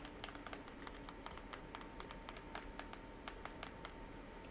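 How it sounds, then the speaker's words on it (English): Keys on an EFO wired handheld keyboard clicking in an uneven stream of sharp, close taps against a quiet background. "the keys give a very solid click as you press them"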